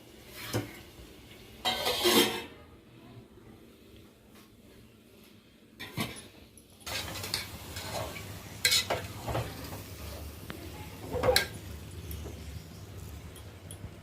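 Mutton keema curry cooks in a pan at home, with intermittent stirring scrapes and a soft sizzle. Utensil clinks come in short bursts, close and fairly quiet.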